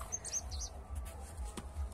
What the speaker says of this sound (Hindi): हम चाहेंगे कि जो पक्षी की आवाजें हैं